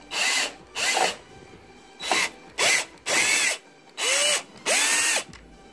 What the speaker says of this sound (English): Here we have a power drill.